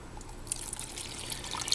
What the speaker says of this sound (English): and add a little water